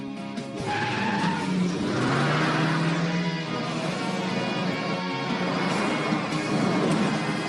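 A cartoon car sets off on a test drive with a loud, continuous engine roar and screeching tire squeals, busy and close throughout with no talking.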